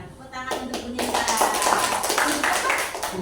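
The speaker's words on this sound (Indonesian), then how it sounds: "Tepuk tangan untuk Bu Nita" Students applaud in a classroom, a dense burst of clapping that goes on for several seconds over a noisy room with voices mixed in.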